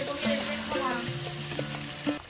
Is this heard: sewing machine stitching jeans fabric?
no